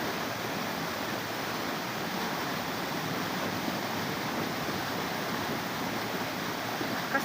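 Waterfall, the tenth in a chain of thirteen falls visited on a hike, heard as a steady, broad rushing roar of falling water that stays even and unbroken throughout.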